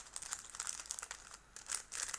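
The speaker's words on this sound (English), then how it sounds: "And put the old battery back in this little plastic bag where the new battery came in." A plastic bag crinkles and rustles in short irregular bursts as an old iPhone 4s battery is slipped inside, faint and close with no talk.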